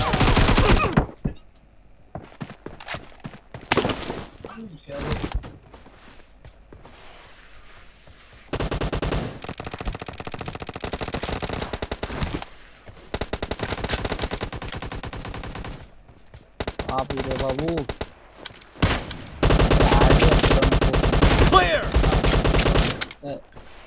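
Video game gunfire rattles in loud bursts and long automatic volleys, broken by short quiet gaps, with denser sustained shooting near the end.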